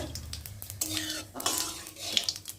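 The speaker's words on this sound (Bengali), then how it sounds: "জিরেটা একটু ভালো করে ভেজে নেব" Whole cumin seeds frying in hot oil in a pan, a soft close sizzle broken by repeated clinks and scrapes of a metal spoon stirring, with no talking.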